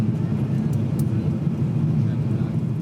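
A steady, dull airliner cabin drone fills the air during the descent toward Amsterdam Schiphol airport, a constant low rumble with no breaks.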